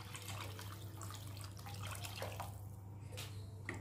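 Tamarind water, made from a lemon-sized lump of tamarind, pours into a simmering prawn curry, giving a steady close liquid splash and trickle that runs alone for about four seconds.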